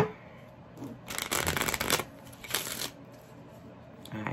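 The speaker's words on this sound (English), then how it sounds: "let's give these three more shuffles and we'll get on with your reading" Tarot cards shuffled in a few quick riffling bursts, with a long rustle and then a shorter one, close and fairly soft with quiet gaps between them.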